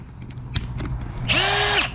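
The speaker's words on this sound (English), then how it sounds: "Drills on slow." Power drill turning slowly with a small bit while fitting a catch can to a coupe: a short whirring spin rising and falling in pitch after a few clicks and handling knocks, no voices.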